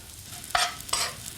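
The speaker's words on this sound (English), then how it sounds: "Get that lovely sizzle going of the crumbs." Two short bursts of breadcrumbs sizzling in a hot frying pan, each loud hiss lasting a moment before fading, separated by a brief quieter gap.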